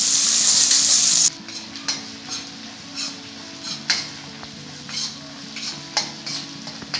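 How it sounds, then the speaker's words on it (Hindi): Garlic, green chili and ginger are sautéed in a pan for a mixed vegetable dish, a loud hissing sizzle that abruptly drops, then intermittent stirring scrapes and clinks against the pan, close up with no talk. "अब इसे अच्छी तरह से भूनेंगे।"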